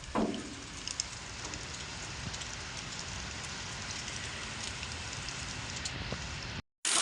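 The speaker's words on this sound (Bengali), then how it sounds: "অনেক বৃষ্টি হইতেছে অনেক বৃষ্টি" Heavy rain in Saudi Arabia pours down as a dense, steady roar heard from inside a room, broken by a short dropout just before the end.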